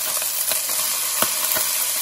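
Onions cooking in a pan for a red pigeon pea curry, giving a steady close sizzle with a few soft stirring scrapes and pops, no voices.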